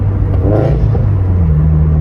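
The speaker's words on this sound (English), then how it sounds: "Bro, and it braps. It like straight up braps now." Turbocharged Subaru BRZ with a Tomei 80R exhaust rumbles at a low, uneven idle with a brief blip of throttle, loud and close, a burbling drone with no voices over it.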